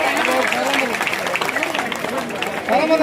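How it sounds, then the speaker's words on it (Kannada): Applause from an audience at a village community gathering honoring guests, a dense steady patter of many hands clapping loudly throughout, with voices mixed in. "ಸನ್ ಮಿತ್ರರಿಗೆ ಜೋರಾಗಿ ಚಪ್ಪಾಳೆ ತಟ್ಟೋದ್ರ ಮೂಲಕ ಅಭಿನಂದಿಸಬೇಕು"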